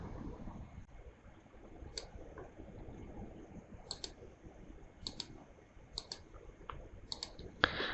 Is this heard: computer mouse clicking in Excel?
yes